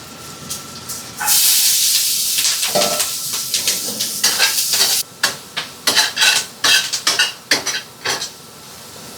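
Home kitchen cooking in a rural house: steady hiss and sizzle of food on heat, with repeated clinks and scrapes of utensils against pots and dishes, close by and fairly loud.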